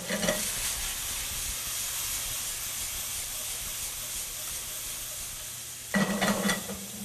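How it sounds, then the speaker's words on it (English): Shrimp sizzle steadily in a hot pan, a continuous frying hiss with a louder burst of crackling near the end as the pan is stirred. "we are going to saute our shrimp"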